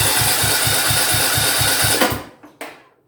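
A Briggs and Stratton small engine with an intake-air problem runs with a loud, steady, rapid chugging pulse, then cuts out and dies away, followed by a brief sharp knock near the end.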